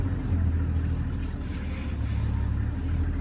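A Lister engine runs out in the bush at a waterhole where elephants come to drink, a steady low chugging rumble droning on without a break, no voices.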